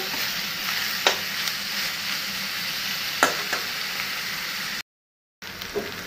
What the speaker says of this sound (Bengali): পেঁয়াজটা একটুখানি কালারটা সুন্দর চলে আসছে, লাল লাল হয়ে